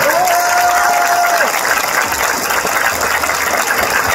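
Audience applause at a French comedy stand-up show, a dense continuous wash of clapping that stays loud and steady throughout, with a brief whistle-like tone near the start.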